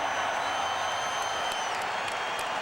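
Applause and crowd noise at a world light heavyweight championship boxing match, steady dense clapping and murmur filling the arena for the battered fighter's effort, with no clear voices standing out.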